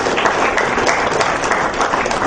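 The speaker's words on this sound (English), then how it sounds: "round of applause as Sir walks up" A crowd at a business launch event applauds steadily and loudly, dense clapping filling the whole stretch without a break.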